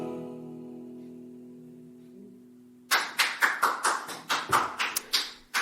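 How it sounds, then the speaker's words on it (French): Police officers applaud in a video game, a quick run of about a dozen crisp, fairly close hand claps that breaks in right after a held musical tone fades. "les flics applaudissent"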